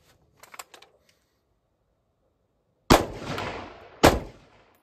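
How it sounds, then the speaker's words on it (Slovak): Two sharp rifle shots in .223/.308 calibre fired through a homemade custom muzzle brake (compensator), loud and close, each a crack followed by a decaying outdoor echo, the second about a second after the first, preceded by faint handling clicks. "Pozor, strieľam."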